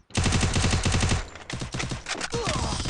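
Rapid automatic gunfire in the Free Fire video game, a loud sustained burst of fast shots followed by shorter choppy volleys, close and dense with no pauses for talk.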